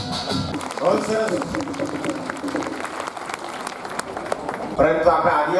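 A crowd claps in welcome as the national flag is carried in, steady applause under a loud amplified voice speaking over it, swelling again near the end.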